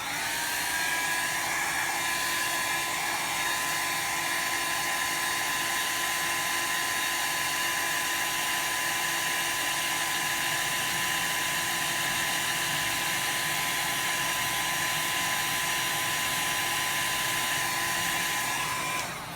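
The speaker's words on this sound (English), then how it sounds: "Now I use a little hair dryer, it's by Revlon, to dry my inks quickly." A small Revlon hair dryer blowing steadily to dry alcohol inks, a continuous close whirring hum with an even airy rush that holds unchanged throughout.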